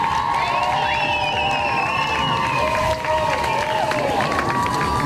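Crowd at the 2001 Red Bull Cliff Diving World Tour finals cheers, whoops and applauds steadily for a diver, a dense continuous roar with high shouts running throughout.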